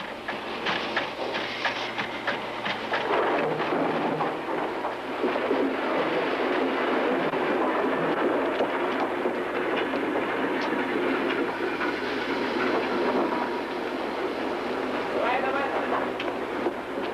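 A train rolls along the rails in a film scene, with a continuous close rumble and faint rhythmic clatter running throughout while people talk over it.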